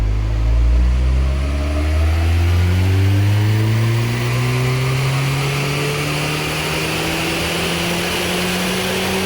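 Mitsubishi-powered Smart ForFour Brabus revving hard on dyno rollers, a loud, close engine note climbing steadily in pitch through one long pull, with no voices over it.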